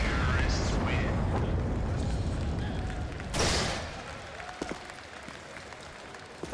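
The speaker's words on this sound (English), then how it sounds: "Some polite applause for the bomb explosion there." A bomb explodes in a CS:GO match on Cache at the MLG Columbus quarterfinals, preceded by a loud crowd rumble and applause in the arena, a sharp burst in the middle, then quieter scattered claps and murmurs.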